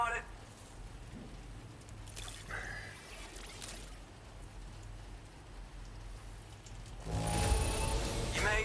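Steady in-game downpour in Death Stranding 2, a broad hiss running throughout and swelling louder near the end, with brief other sounds over it and no speech.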